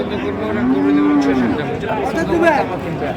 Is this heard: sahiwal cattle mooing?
yes